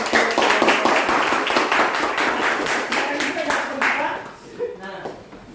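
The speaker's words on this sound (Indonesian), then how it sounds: "Oke, tepuk tangan." A class claps together after a group presentation, a close burst of many hands. The rapid clapping is steady for about four seconds, then fades to scattered claps and a few voices.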